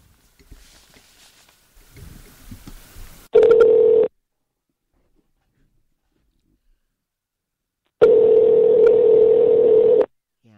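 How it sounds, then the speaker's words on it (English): A phone call's ringing tone sounds twice, each a steady buzz lasting a second or two, separated by several seconds of silence after faint line noise. "I hear the phone ringing."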